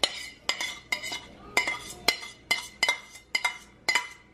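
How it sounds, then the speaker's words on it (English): Metal utensil scraping cooked peppers and onions out of a pan into a casserole mixture: about ten sharp, rhythmic metallic scrapes and clinks, close and fairly loud, with no talking. "I'm just gonna scrape off these peppers and onions to the mixture."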